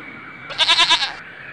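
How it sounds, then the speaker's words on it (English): A single wavering goat bleat with a quick tremolo, clear and moderately close, over faint background hiss. "Goat bleats."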